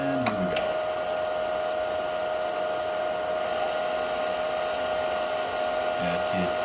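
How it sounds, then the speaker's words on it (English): The wire feed motor of a Harbor Freight Titanium MIG170 welder runs at half speed with a steady, even electric whine, close and constant, with brief clicks at the start and end and a voice speaking over it. "Now let's turn it up to half of the wire feed speed."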